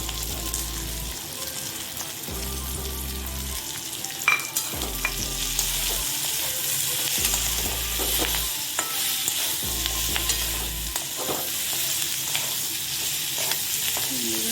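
Chili chicken with salt, chili powder and black pepper sizzles steadily in a pan, with repeated stirring and scraping strokes over a low pulsing hum.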